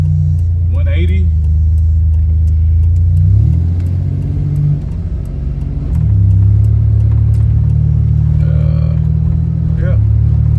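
A Buick Grand National engine drones loud and close while driving, its pitch rising and falling through gear changes, with people talking over the engine.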